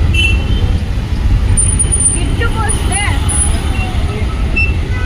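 Bus and road traffic in Bangalore form a loud, constant roar of engines, with faint horn-like tones and brake sounds rising through it.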